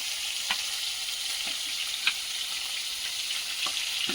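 A fish curry cooks in a pan with an even, moderately quiet hiss of sizzling liquid and a few soft clinks and taps spread across it, heard alone without speech.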